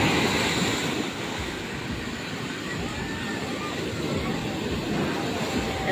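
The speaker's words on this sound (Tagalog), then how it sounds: "Ang lakas ng alon na." Strong ocean waves on the Philippine Sea roar as a steady, loud broadband wash, with a heavier surge at the start and no speech.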